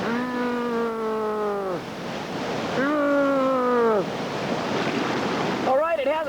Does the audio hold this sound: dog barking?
no